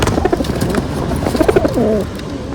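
Pigeons cooing close by in a loft, several soft throaty coos overlapping against a steady background hum.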